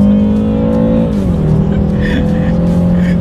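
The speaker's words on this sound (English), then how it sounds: "let's do a quick little acceleration on these back roads" A 2019 BMW 330i xDrive sedan accelerates in sport mode on back roads. The engine note is loud and close, its pitch drops briefly at a shift and then holds steady with road noise underneath.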